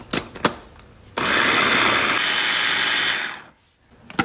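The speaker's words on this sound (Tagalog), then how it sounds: "ilalagay ko dito sa ating food processor" A food processor chops pieces of bread into crumbs, whirring loudly and steadily for about two seconds after a couple of light knocks, then cutting off abruptly.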